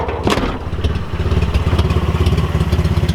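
A Nissan 240SX engine idles close by at night with a steady, throbbing pulse, with a brief clattering knock near the start.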